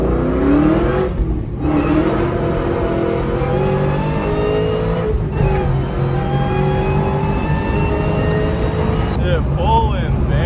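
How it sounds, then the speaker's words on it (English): The supercharged 750 WHP 6th Gen Camaro SS pulls hard and loud close by, with a rising supercharger whine over the engine roar. The revs climb through several shifts with brief dips, and voices talk underneath. "we had to end the video off with a little supercharger line"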